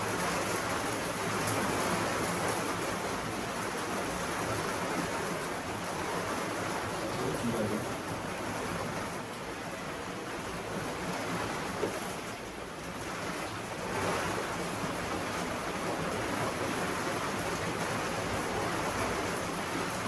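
Steady heavy rain falling in a continuous dense hiss that stays at an even, fairly loud level throughout, with no talk.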